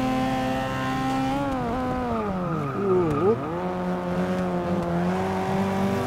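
Porsche 718 RS 60 race car in Forza Motorsport, engine roaring loudly and continuously with pitch sweeping down and back up through gear changes and cornering.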